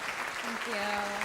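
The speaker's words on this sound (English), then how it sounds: "Let's have a round of applause for Ksenia, ladies and gentlemen." A Christmas spectacular stage show audience applauds a guest named Ksenia, a dense, steady wash of clapping with voices and cheering mixed through it.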